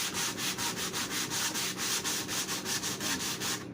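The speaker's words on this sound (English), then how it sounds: "As I am sanding, you can see there's sand dust, which is good." Rough-grit sandpaper scrubbing across dry wood in steady, rhythmic back-and-forth strokes, close and even, with no voices.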